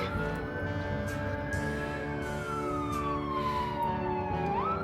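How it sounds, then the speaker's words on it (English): A wailing emergency siren sweeps slowly up and down, distant and steady, heard alone without talk. "I'm just grateful that those sirens in the background weren't for us."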